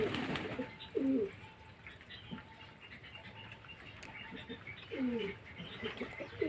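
Pigeons cooing inside a cage, several soft, throaty coos in short bursts near the start, middle and end, with faint chirps over a steady low background hum.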